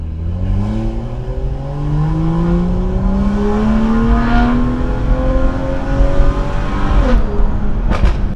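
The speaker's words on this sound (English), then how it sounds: "This is how your car's gonna sound" A car engine is held in gear without shifting, so it revs higher and higher with a strained, rising drone, loud and close, before a brief drop and renewed revving near the end.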